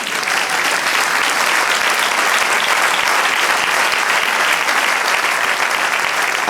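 A church congregation claps together in steady, dense applause that holds evenly from start to finish.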